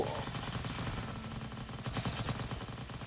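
Gunfire from soldiers and a player shooting zombies in a Thai zombie base-defense video game, a fairly faint, steady stream of rapid automatic shots rattling continuously through the whole stretch.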